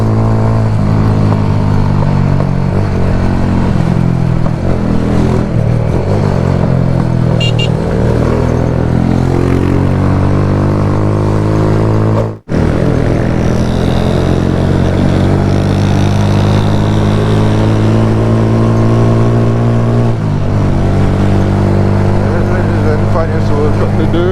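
A motorcycle with a freshly overhauled engine, new piston and head, runs steadily while ridden, a loud continuous drone with harmonic engine tones throughout, briefly cutting out midway before carrying on.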